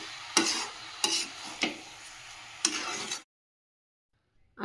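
Grated coconut for laddu frying over a low flame, with about four soft scraping stirs against a hissing sizzle, close by, then a sudden stop into silence.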